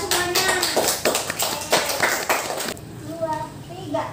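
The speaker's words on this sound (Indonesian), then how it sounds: "Oke, tepuk tangan buat semuanya." A group of children clapping together in a classroom, several seconds of brisk applause with an adult voice speaking over it, then a short quieter stretch of scattered voices.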